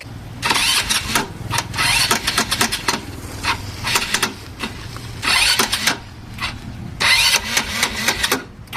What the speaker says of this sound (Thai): แล้วก็เครื่องยนต์นะครับ มีเสียงสตาร์ทค่อนข้างดังและน่ากลัว